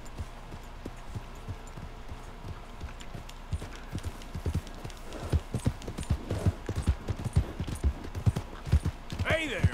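Horse hooves clip-clop in an uneven, quickening rhythm in a Wild West video game, close and distinct over a faint background, with a brief whinny-like sound at the very end.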